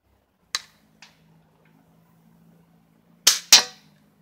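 Umarex DX-17 air pistol fired in a quick series: two sharp, close cracks about half a second apart, a pause with a faint low hum, then a louder pair of snapping shots in rapid succession.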